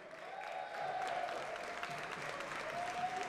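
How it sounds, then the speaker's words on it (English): A crowd applauds a last chance qualifier winner at a Dragon Ball FighterZ World Tour Finals event, with steady broadband clapping throughout and a faint tonal hum running beneath it. "Please give a round of applause for your last chance qualifier, number 4"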